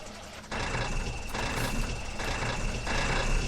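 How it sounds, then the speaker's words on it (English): Farming Simulator 17 truck on a North West Texas farm map, a steady engine drone with a faint high reversing beep running throughout, starting abruptly after a brief quieter moment, no talk. "Now let's get a truck out here."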